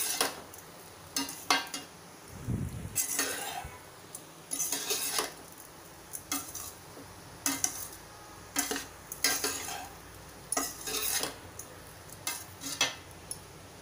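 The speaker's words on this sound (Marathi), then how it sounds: "हे बघा, मस्त पोहे मिक्स होत आहेत" A spoon scrapes and clanks against a pan while kanda batata poha, flattened rice with onion and potato, is stirred and mixed, in repeated bursts of metallic scraping with a soft sizzle between strokes and no talking.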